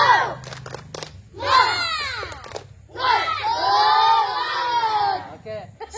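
Schoolchildren shout a rhythmic group chant in loud bursts with short pauses, a classroom spirit clap cheer, punctuated by claps.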